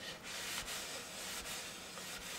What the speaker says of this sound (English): So we're just going to wipe all of the sanding dust off of our board.